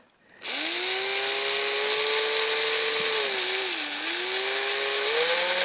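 A power drill whines steadily at high speed, its pitch dipping slightly midway as it bores through material, loud and close.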